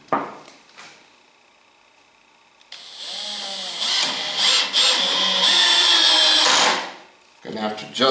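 A power drill drives screws into a wooden reloading bench, whirring loudly for several seconds and then winding down, with brief bursts of handling noise before and after.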